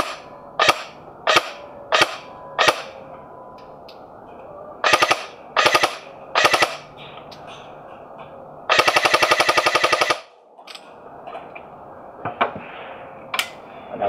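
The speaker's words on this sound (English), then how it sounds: "We're going to shoot both the old and new 2018 revision and give them a sound comparison test." ASG Scorpion Evo airsoft guns firing 0.25 BBs outdoors on a 7.4 volt battery, with loud single shots and short bursts, then a sustained full-auto string lasting over a second.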